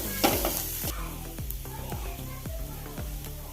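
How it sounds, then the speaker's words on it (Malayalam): Onions and green chillies frying for Kerala-style tadka rice, stirred in a pan: soft sizzling with a few scraping strokes and one brief clatter near the start, close and fairly quiet. "ഉള്ളിയും പച്ചമുളകും വാടി വരുന്നവരെ ഇളക്കിക്കൊണ്ടേയിരിക്കണം"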